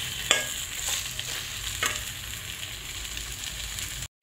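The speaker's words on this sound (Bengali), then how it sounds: "ঘি দিয়ে আমি নেড়ে নিলাম।" Semolina halwa with ghee stirred in a frying pan, a continuous close sizzle broken by a few scraping strokes of the spoon, with no voices.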